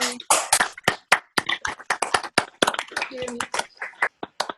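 Participants on a video call meeting clap and cheer through unmuted microphones in scattered, uneven bursts, mixed with overlapping voices.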